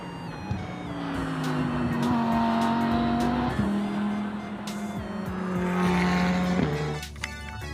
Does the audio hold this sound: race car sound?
yes